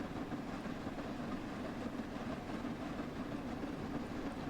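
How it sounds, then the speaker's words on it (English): Flying Scotsman steam locomotive running along the East Coast Main Line in Train Sim World 4 at around 50 mph, a steady, continuous rumble with rhythmic rail clatter that stays even and close throughout. "Come on, train, you can do it."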